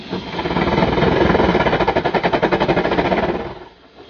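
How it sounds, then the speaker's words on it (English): A 1913-built Swiss R12 steam rotary snowblower of the Rhaetian Railway runs after 18 years of restoration, giving a loud, steady rapid mechanical chugging pulse for about three seconds before fading out. "for the very first time, the R12 is being tested, and that too under the toughest conditions."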